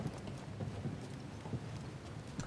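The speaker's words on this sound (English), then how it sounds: "The goat creature, the goat." Hoof clip-clops from a goat creature in Star Wars Jedi Fallen Order, a quiet run of soft, uneven steps over low game ambience.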